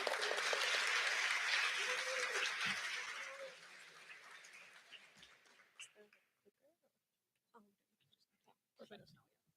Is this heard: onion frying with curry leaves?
no